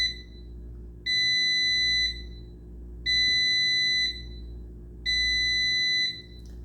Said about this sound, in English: So this is how loud it sounds when it turns off.